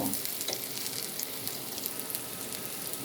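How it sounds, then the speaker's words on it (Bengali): Whole cumin seeds hit hot oil with frying onion, garlic and green chilli, giving a dense, steady sizzle and crackle close by, with faint stirring and no voices. "এই পর্যায়ে আমি আস্ত জিরা ছিটিয়ে দিব"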